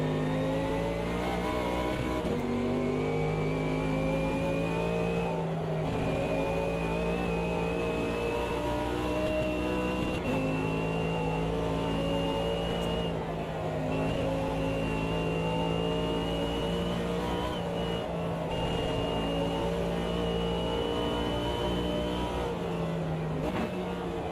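Engine of a Mercedes Gen 1 race car in the racing game Automobilista 2: a steady, loud, buzzing drone that climbs through the revs, dips at each gear change and keeps pulling for over twenty seconds, with no talk.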